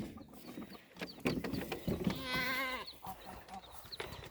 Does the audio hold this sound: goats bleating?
yes